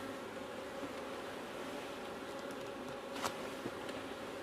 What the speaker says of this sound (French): Les abeilles qui sont là, on va les remettre là dedans.